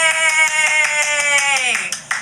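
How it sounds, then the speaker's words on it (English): A quick round of hand clapping plays during a July 4th TikTok livestream. The claps come as a rapid, even patter beneath a sustained, high cheering voice, and both fade out near the end. "Yes, a round of applause."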